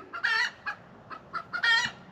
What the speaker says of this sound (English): Boy, my chickens are losing it over there.